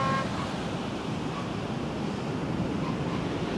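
Ocean surf washes in a continuous broad roar, the waves blending into an unbroken, moderately loud wash of noise.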